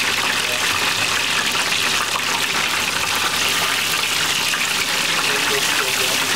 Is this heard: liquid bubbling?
yes